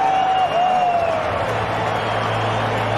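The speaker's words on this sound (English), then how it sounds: "The crowd have not stopped clapping." A cricket crowd keeps up sustained applause at Eden Park during the Cricket World Cup semi-final between New Zealand and South Africa, a dense wash of clapping and cheering with tonal whines riding over it.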